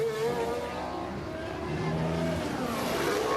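A Formula 1 car at the Hungarian Grand Prix screams past during practice, its high-revving engine whine sweeping in pitch as it accelerates out of the final corner, loud and continuous with a faint crowd wash beneath.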